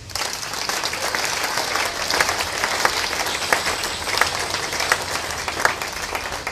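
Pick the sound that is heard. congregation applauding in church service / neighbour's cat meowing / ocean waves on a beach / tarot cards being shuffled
congregation applauding in church service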